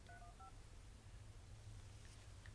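A telephone keypad dials *67 before a call, sounding three or four quick beeping tones near the start over a low steady hum, then quiet background.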